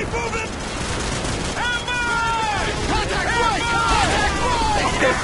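Gunfire in Call of Duty: Modern Warfare, with dense bursts of rifle and machine-gun fire in a swamp battle. Steady, loud and continuous, with shouted voices and radio chatter mixed in.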